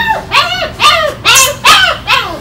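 A German Shepherd dog whimpers and yelps in five close, loud, rising-and-falling cries spaced about half a second apart, with no talk.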